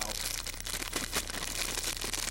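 Cookie packaging crumpled right beside a microphone, a dense, loud, continuous crinkling rustle with sharper crackles throughout.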